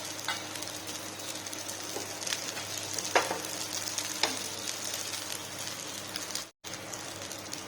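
Leftover rice frying on a low flame is broken up in the pan, with a soft, steady sizzle punctuated by occasional scrapes and taps of a spatula, fairly quiet and close, with no talking, and a brief dropout near the end.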